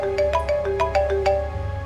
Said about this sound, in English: I woke up to the blasting alarm clock in total darkness